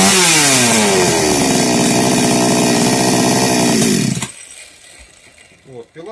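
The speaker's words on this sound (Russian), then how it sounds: "Вот, пила работает стабильно," A Patriot gasoline chainsaw engine with a 45 mm piston runs steadily after carburetor repair, loud and close with a rising then held rev for about four seconds before cutting off abruptly, followed by quiet.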